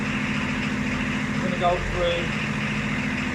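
A Range Rover P38 engine idles with a low, steady rumble beneath someone speaking close by.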